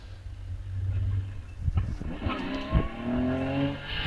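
A Porsche 911 Carrera 3.3-litre race car at a Loton Park hill climb approaches and sweeps past close by, its engine note rising and revving with a brief tyre chirp, then fading away.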